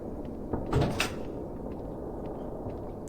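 A door opening in the Evil Nun horror game, heard as a single short creak and thump near the start, followed by quiet room ambience.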